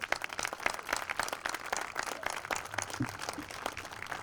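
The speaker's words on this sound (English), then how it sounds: "I think we should give them another round of applause" Applause for a group of children at an outdoor town Veterans Day ceremony, a steady patter of many hands clapping at moderate distance that carries on without a break.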